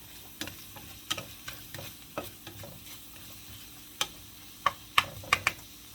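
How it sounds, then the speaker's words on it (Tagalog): Ground pork frying in a pan with onions, cooked with green beans: a steady low sizzle broken by sharp clacks of stirring, sparse at first, then quicker and louder toward the end. "lagyan natin ating ground pork"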